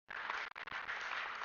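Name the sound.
round of applause for sponsor Care Next Level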